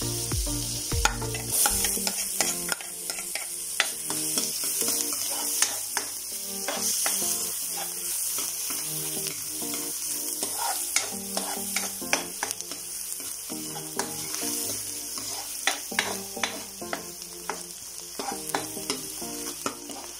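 Garlic sizzles in hot oil and butter while being stirred for duck kaldereta, with a steady crackling fry broken by repeated scraping clicks of a utensil against the pan.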